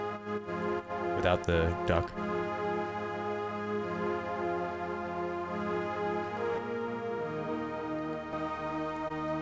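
Sustained pad chords from a Hydrasynth synthesizer with saturation and low-end EQ, bright buzzy harmonics and a short ticking burst near the start, while someone talks briefly over it.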